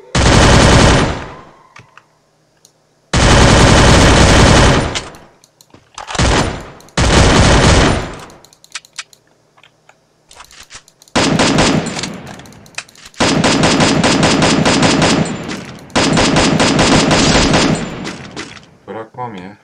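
Loud automatic machine gun fire from the Free Fire mobile shooter, coming in long sustained bursts with short pauses and a few brief separate volleys, alternating with stretches of near silence.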